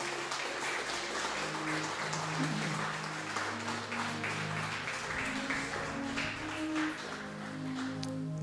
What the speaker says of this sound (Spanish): Denle un aplauso al Señor, mi hermano.